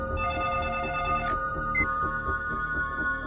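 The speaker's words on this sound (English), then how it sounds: "So the other night, I got this phone call." A telephone rings with a steady electronic trill that repeats, then breaks off into sparse softer tones, loud and close with no voices over it.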